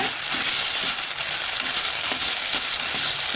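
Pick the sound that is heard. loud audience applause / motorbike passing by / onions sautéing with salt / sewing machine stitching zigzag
onions sautéing with salt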